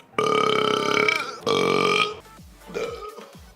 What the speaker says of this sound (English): Now I'm gonna be burping with this Red Bull.